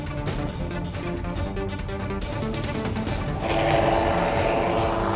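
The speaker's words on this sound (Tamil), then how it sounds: "நிலையில் தற்பொழுது ஹெலிகாப்டர் அங்கு வந்து கொண்டிருக்கிறது." Rescue helicopter arriving over Chitrapettai near Cuddalore to rescue fishermen, a steady rotor and engine drone with broadband rumble that grows louder and denser partway through, heard continuously with no talk.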